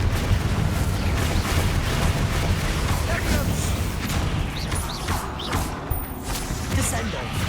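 Dense, continuous rumbling blast and crackling debris noise from Hogwarts Legacy spellcasting combat, with the Confringo fire curse exploding, loud and sustained, with faint scattered voice-like effects over the din.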